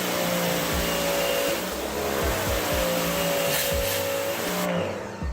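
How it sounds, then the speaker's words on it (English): A Sun Joe SPX3000 electric pressure washer runs close by with a loud, steady motor whine and hissing spray, holding constant before cutting off abruptly near the end. "I want y'all to kind of listen to the pressure washer when I'm pressure washing"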